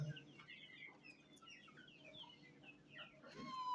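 Desi chickens about six weeks old cluck softly in short, scattered chirps and murmurs, quiet and close by, with no talking.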